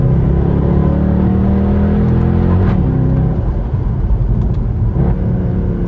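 A Mercedes E63 AMG on a race track, its engine droning loud and steady as it accelerates gently out of a turn, a continuous low rumble with a rising engine note.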